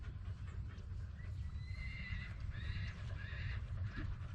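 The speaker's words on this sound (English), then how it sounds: "I can hear other horses up by the barn." Paint horses whinny repeatedly at a distance over a low rumbling background, with several drawn-out neighs and no voices, out in a ranch field.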